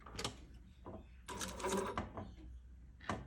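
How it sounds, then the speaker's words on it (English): Sewing machine stitching a dress button loop along the stitch line, short bursts of quiet mechanical whirring broken by pauses and faint handling clicks, heard close up. "I've lined up that loop with the guide and I'm stitching on the stitch line"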